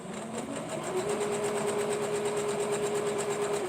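A sewing machine stitches down hexagon pieces on a quilt, running steadily and fairly loud at close range with a fast even needle rhythm and a sustained motor whine, no voices over it.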